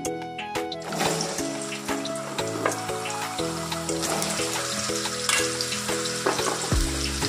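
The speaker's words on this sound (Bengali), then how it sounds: "আলুটা আমি ভাজতে দিয়ে দিচ্ছি।" Potatoes drop into hot salted oil and fry with a loud, crackling, steady sizzle close by. Occasional stirring knocks break through, and no one speaks.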